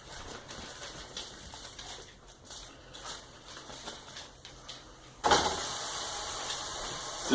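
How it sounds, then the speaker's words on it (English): Steady, crackling sizzle of ground beef frying in a pan, growing suddenly louder and brighter partway through as the hiss intensifies. "Sizzle, sizzle, sizzle."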